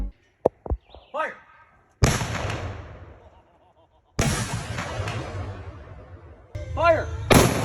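A real Civil War cannon fires live twice, each a huge close boom that rolls and echoes away over several seconds, with shouted voices before and between the shots.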